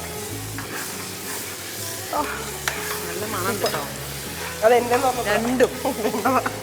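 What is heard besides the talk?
stirring biryani in a sizzling pan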